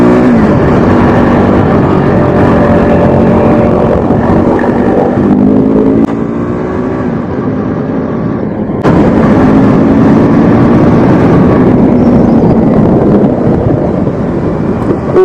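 A KTM RC 390 motorcycle engine drones loudly and steadily while riding on the road, its pitch rising and falling through gear changes with a sharp surge in revs partway through, heavy wind rush underneath, and no talking.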